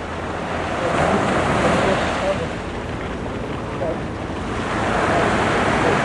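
Sea waves wash onto the shore at Cannes in a broad, continuous roar that swells and eases, mixed with wind buffeting the microphone.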